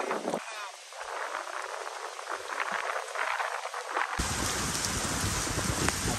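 Heavy rain pouring at a rainy offroad campsite in Siruma, Camarines Sur, a dense steady hiss of drops hitting surfaces that grows louder and fuller toward the end.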